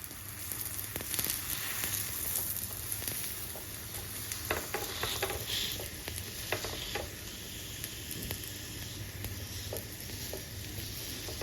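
Puranpoli frying in ghee on a pan, a steady low sizzle with scattered crackles and pops running throughout, fairly faint and close, with no talking.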